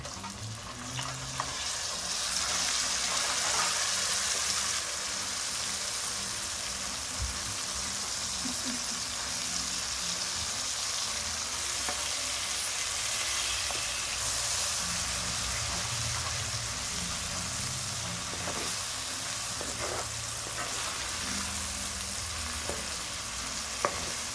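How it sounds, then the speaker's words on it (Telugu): Onions and fenugreek leaves frying in a pan for mutton keema curry, a steady loud sizzle with a few stirring scrapes and clicks throughout, no talking. "ఉల్లిగడ్డలు మెంతి కూర వేగింది బిడ్డ. వేసి పసుపు వేసేసుకొని కలుపుకొని కీమా వేసేసేయాలి బిడ్డ."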